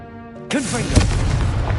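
A blast from the Confringo fire spell in Hogwarts Legacy erupts suddenly after a quiet musical bed, followed by a rumbling, crackling wash of fiery debris that lingers at steady loudness.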